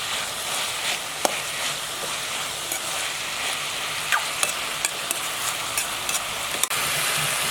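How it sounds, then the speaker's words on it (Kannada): Chopped medium tomatoes fry in a pan at home while prawns are being cooked, a steady close sizzle punctuated by sharp spoon scrapes and clicks as the mixture is stirred. "ಅದನ್ನು ಇಲ್ಲಿ ಅದನ್ನು ಸೇರಿಸ್ಕೊಂಡು ಈಗ ಸ್ವಲ್ಪ ಹುರಿಬೇಕು."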